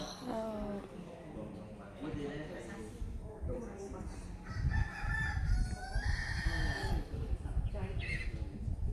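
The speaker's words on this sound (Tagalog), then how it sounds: "May manok din sila doon." A rooster crows repeatedly nearby in Vietnam, its shrill call rising over people chatting and exclaiming in the background.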